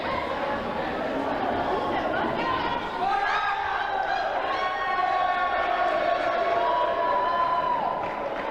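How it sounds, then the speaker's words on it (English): Spectators at a girls high school basketball game, Gettysburg against York, cheer loudly and steadily throughout, a dense roar of voices under an announcer who talks over it. "Biggest cheer of the night for Evan Wells."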